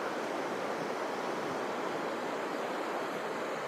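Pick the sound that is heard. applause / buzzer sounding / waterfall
waterfall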